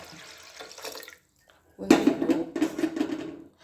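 Tap water running over tomatoes and water being poured for a village-style Karnataka dal, a brief splash followed by a louder, steady gush of water in a sink.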